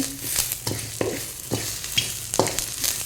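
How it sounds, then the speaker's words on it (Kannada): Curry leaves fry in hot oil with dried red chillies for a wedding-style tomato saaru, giving a steady crackling sizzle broken by regular spoon scrapes against the pan, close and fairly loud, with no voices. "ಇವಾಗ ಫ್ರೈ ಮಾಡಿಕೊಳ್ಳುವ ಚೆನ್ನಾಗಿ ಈಗ ಸ್ವಲ್ಪ ಕರಿಬೇವು ಹಾಕ್ತಿದ್ದೇನೆ"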